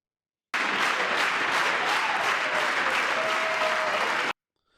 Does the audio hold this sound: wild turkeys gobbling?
no